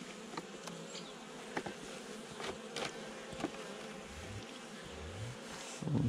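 Agitated honey bee colony buzzing during a November hive inspection, with a dense, steady drone of many wings and individual bees zipping close past at intervals; no voices.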